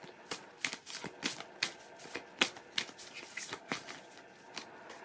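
Cards being shuffled in quick, uneven riffles and snaps, close by and moderately quiet, with no talking.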